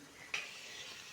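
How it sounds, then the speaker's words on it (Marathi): Coconut, onion and ginger masala stirred and sautéed in a pan over a wood-fired chulha, giving a steady soft hiss with one brief scrape of the spoon, close and fairly quiet. "कली मसाला चांगला भाजेपर्यंत परतून घ्यायचा आहे"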